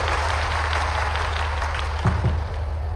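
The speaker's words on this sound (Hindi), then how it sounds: "जोरदार ताली बजाओ अपने उस बच्चे के लिए" A crowd at a public government event with the chief minister applauds, a steady sustained wash of clapping from many hands beneath a low constant hum of the venue sound system, with a couple of brief louder bumps near the end.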